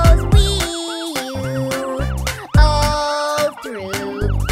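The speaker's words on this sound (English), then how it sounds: "That siren on the fire truck goes wee-you" Cartoon fire truck siren in a children's song, a loud wailing rise-and-fall tone repeating over bright musical backing.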